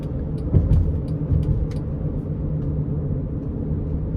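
Inside a moving 2016 Honda Odyssey V6 minivan, a steady low tire and road rumble fills the cabin, with a few brief light knocks early on.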